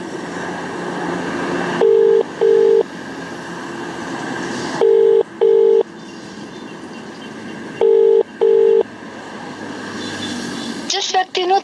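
A phone call ringback tone sounds in three evenly spaced double-beep pairs over a steady background hum, followed by a brief tone at the end.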